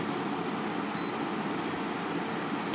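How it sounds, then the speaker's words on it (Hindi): A DC power supply machine used for phone repair gives two short, thin, high beeps as it locks, partly buried under a steady loud hiss. "आपको दो बार में बीप सुनाई देगी,"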